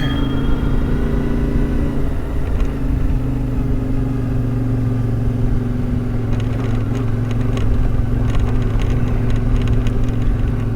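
A car drives off-road down steep gravel roads on a cliffside, its engine holding a loud steady drone while tyres crunch and rattle over loose stones throughout.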